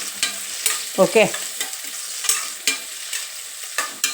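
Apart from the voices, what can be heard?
chopped onions frying in a pan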